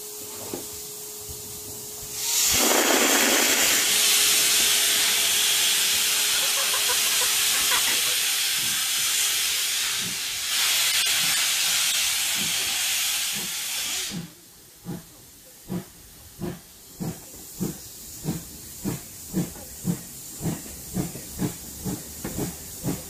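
Steam locomotive 6705 starts pulling its first passenger train in eight years. A loud, sustained hiss of steam fades out, then a series of rhythmic chuffs speeds up as the engine gets moving.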